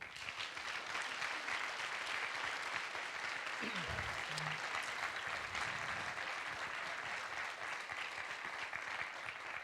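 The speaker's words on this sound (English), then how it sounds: "Let's give them a big round of applause" Audience applause at a GA'16 general assembly session in Tallinn, a dense, steady wash of clapping from a large crowd lasting the whole stretch, with a brief low voice murmur partway through.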